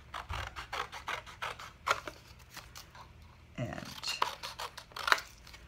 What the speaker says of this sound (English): now I'm going to take my scissors and cut this out